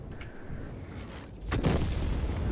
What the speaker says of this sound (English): There goes the artillery.